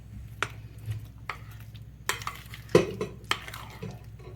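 Kefir pancake batter with chopped apples is stirred in a bowl, giving soft, irregular scrapes and clinks of a utensil against the dish, fairly close and quiet.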